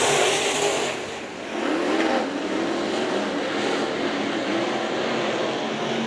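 IMCA modified race cars at Santa Maria Raceway during the Nationals, a steady loud roar of several engines racing together on the dirt oval, with a brief dip before the sound swells again and holds.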